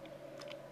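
Keystrokes on a computer keyboard entering server commands, a few soft taps spread across under a second, close and quiet, with a slightly louder click cluster at the end and no voices.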